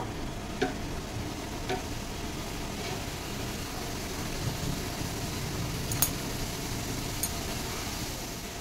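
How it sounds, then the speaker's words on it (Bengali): Mini singaras deep-frying in oil, an even crackling sizzle throughout, with a few light ticks and utensil taps scattered over it. "এই কটাও আমি ওরকম করেই ভেজে নেবো।"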